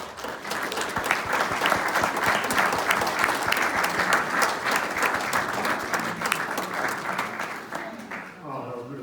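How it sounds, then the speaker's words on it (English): Mourners at a eulogy applauding, with a dense, sustained roomful of clapping that carries on evenly for several seconds before fading, with voices murmuring as it ends. "Can we clap for that?"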